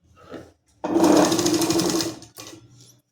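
A sewing machine stitches salwar fabric in one steady, close, whirring run of about a second and a half, followed by a brief second burst after a short pause.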